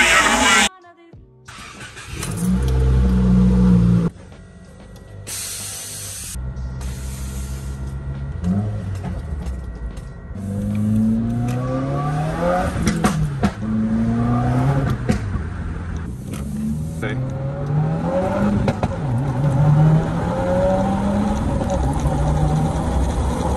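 A 2021 Subaru WRX drives with its engine revving up and down through repeated accelerations, loud and close, with brief exhaust crackles between pulls.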